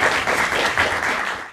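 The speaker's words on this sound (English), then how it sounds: "let's give him a round of applause" Audience applause welcomes writer Dinaw Mengestu to a campus reading, a dense, steady wash of many hands clapping close by, holding loud for over a second before tapering off.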